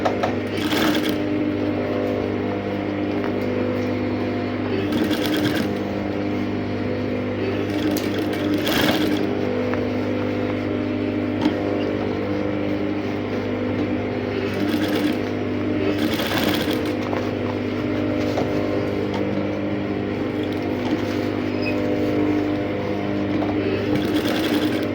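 A sewing machine stitches the corner seams of a structured sleeve, running steadily and close for the whole stretch with a constant mechanical whir and faint rhythmic clatter, pausing only briefly.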